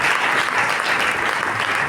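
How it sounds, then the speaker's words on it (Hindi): Enthusiastic audience applause at a church gathering, a thick continuous burst of clapping filling the room at close range. "हम जोरदार तालियां बजाते"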